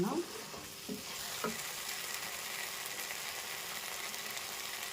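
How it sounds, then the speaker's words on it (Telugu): Tomato paste fries in a pan for a rui fish pulusu, a steady close sizzle with a few stirring scrapes at the start, no voices. "టమాటా పేస్ట్ వేసుకున్నామండి పచ్చివాసన పోయిన వరకు వల్ల బాగా వేగిన తర్వాత"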